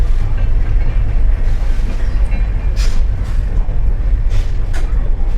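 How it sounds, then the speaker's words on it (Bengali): A passenger train pulling away from a station platform in India, heard from on board as a steady, loud low rumble of wheels and carriage with faint rattles and occasional hissing bursts. "আমাদের ট্রেন স্টার্ট হয়ে গেছে"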